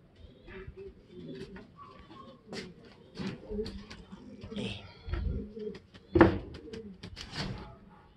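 Pigeons arrive and coo softly in a loft, with low burbling calls, wing flutters and scattered knocks and clatter throughout, while someone talks under the sounds.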